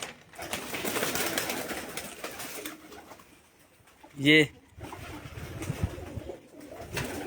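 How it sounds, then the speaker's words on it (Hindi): Large rooftop pigeons give a single loud, close burst of cooing amid quieter background noise, with someone speaking briefly nearby. "बड़े कबूतर हैं जी"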